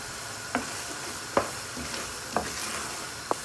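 Black chickpeas fry in oil with crushed black pepper, a steady low sizzle broken by four sharp scraping stirs of a spoon against the pan, spaced roughly a second apart, with no talking.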